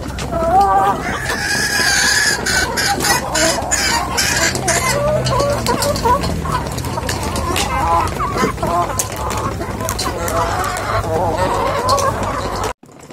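Backyard chickens fed medicinal herbs at home cluck steadily and loudly throughout, with a rooster crowing among the flock and people talking over the poultry noise.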